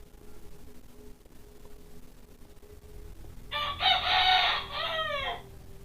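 A rooster crows once, loud and close, in a long rising-and-falling call over a low, steady background hum.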